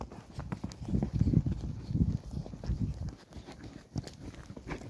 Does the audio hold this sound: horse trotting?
yes